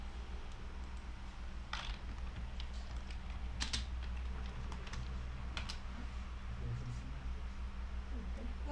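Keys tapped on a computer keyboard while entering a Snort command-line test, a few soft clicks and short bursts spread over a steady low hum, fairly quiet and without speech.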